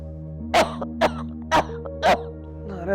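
An elderly woman coughs four times in a steady rhythm, each cough short and close, with a soft low hum continuing underneath.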